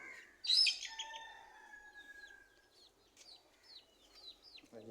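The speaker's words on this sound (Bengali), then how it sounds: "বিভিন্ন ধরনের হাঁস মুরগি পালন করি" Chickens on a small hobby farm give a loud, close crow-like call that trails off, followed by scattered fainter chirps and clucks.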